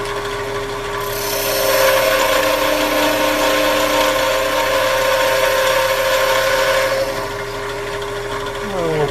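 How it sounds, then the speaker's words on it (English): A wood lathe turns a snowman Christmas ornament as a cutting tool shaves the spinning wood, a steady humming motor under a loud, rough scraping that starts after a second and eases off near the end. "I want to cut away enough to get rid of those tool marks."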